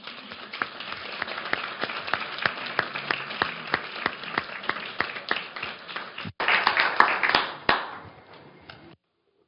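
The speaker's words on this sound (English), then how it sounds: "I want to ask you please to applaud our" A sparse audience at a report launch applauds its panelists with distinct individual claps in a loose rhythm, swelling into a denser burst near the end before cutting off.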